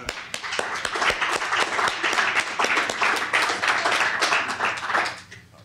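An audience at a 1997 Bayview poetry recital in the San Francisco Public Library claps for a young poet, a steady round of applause with sharp individual claps that fades out near the end.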